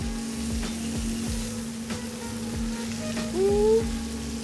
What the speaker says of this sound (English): We can just start flipping them over.